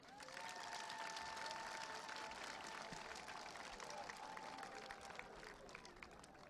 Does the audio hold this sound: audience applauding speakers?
yes